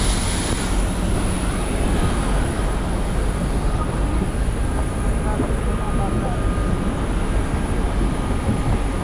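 An airliner touching down at Dubai airport fills the cabin with a dense, loud roar and rumble, heard from inside and steady throughout, with a faint voice beneath.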